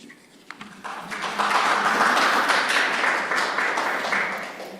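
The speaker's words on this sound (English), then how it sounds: "I echo the applause from Edinburgh." A conference audience applauding, the clapping swelling from a few claps into steady, full applause that holds and then slowly fades.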